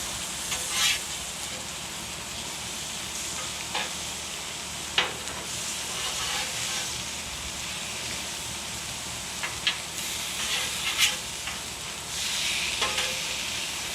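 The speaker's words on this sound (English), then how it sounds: "Need to get the bacon going so they get the bacon flavor in them too." Bacon frying in a pan alongside chicken gives a steady, close hiss and sizzle. Occasional sharp clicks and scrapes from stirring break through it, and no voices are heard.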